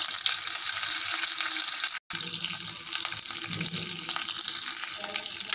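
Green chillies and curry leaves sizzle and crackle in hot oil as a seasoning for drumstick leaf palya, a steady close frying hiss with a brief cut partway through.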